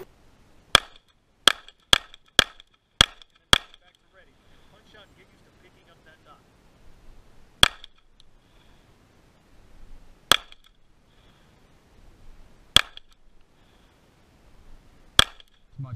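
Pistol shots fired at a target with a red dot sight at a shooting range: a rapid string of six sharp cracks, then single, widely spaced shots, all loud and close, with faint talk between them.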